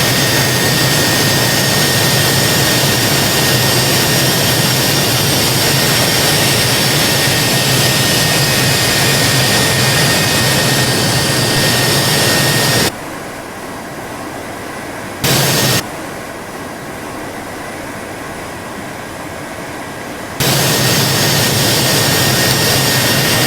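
A B-2 Spirit stealth bomber's jet engines roar steadily in Microsoft Flight Simulator 2020, a loud constant broadband rush that drops abruptly to a quieter hum for several seconds before returning at full strength.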